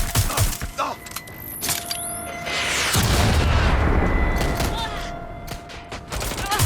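Gunfire in the video game Watch Dogs: Legion: scattered sharp shots and booms give way to a loud, sustained barrage of rapid fire, then trail off into a few more cracks near the end.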